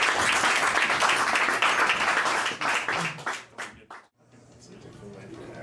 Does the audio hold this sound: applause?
yes